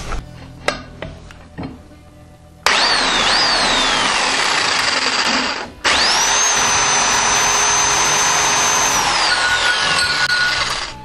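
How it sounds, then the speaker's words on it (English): A Sawzall reciprocating saw cuts through steel pipe with a loud, sustained buzzing rasp and a whining tone that rises and falls, pausing briefly partway through, after a few light clanks at the start. "It's really hard to cut the pipe straight using a Sawzall"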